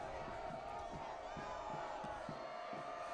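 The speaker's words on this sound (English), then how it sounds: "Crowd getting restless." Crowd noise from a high school football playoff game between Jersey Shore and Pottsville, a steady, dense roar of many voices with faint rhythmic thumps beneath it, held at an even level throughout.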